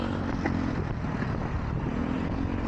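Busy street traffic of jeepneys and motorcycles in San Fernando in mid-afternoon, a steady loud engine rumble with no break and no voices.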